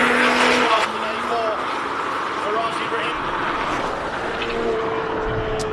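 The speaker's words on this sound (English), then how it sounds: "seemed like he missed a gear in the Supra" A Toyota Supra race car screams up a hillclimb course at a King of the Hill shootout, its loud engine note wavering as a gear is missed, with a commentator talking over the roar throughout.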